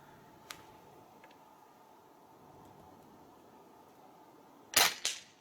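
A Kral Puncher Armour 5.5mm (.22) bullpup PCP air rifle fires once, a sharp, fairly loud crack with a brief echoing follow-up, after a small faint tick amid quiet outdoor background noise.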